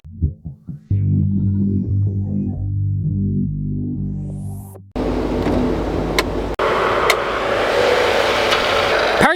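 A supercharged 6.4-liter Hemi V8 in a Dodge Durango SRT 392 with an 8-speed automatic cranks and fires, then settles into a deep rumbling idle with harmonic drone, before the sound cuts to a louder, rougher close-up engine roar.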